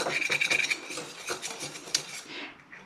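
A whisk scrapes and taps against a bowl while dry ingredients for a gluten-free vegan almond caramel cake are stirred and sifted together, giving quick, close, rhythmic rasping clinks that ease off toward the end.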